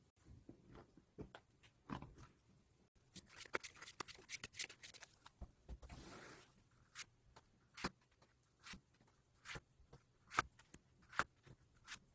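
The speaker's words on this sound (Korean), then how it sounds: "그럼 카드 셔플 진행해 보도록 하겠습니다" Tarot cards are shuffled by hand in a quiet room, a quick irregular series of crisp riffling snaps and soft slides, close and fairly faint, with brief pauses between bursts.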